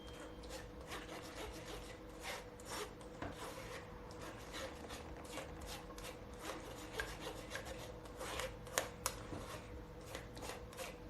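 Ghana-style peanut soup is whisked through a metal sieve, giving steady scraping and rasping strokes with sharper clicks and knocks, close and fairly quiet, with no talking.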